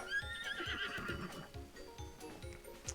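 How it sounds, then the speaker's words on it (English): A horse neighing in the video game The Legend of Zelda: Breath of the Wild, a faint whinny fading out over soft rhythmic hoof clops, with no talking. "I don't know what is wrong with you, horse."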